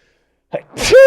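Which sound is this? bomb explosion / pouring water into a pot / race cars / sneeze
sneeze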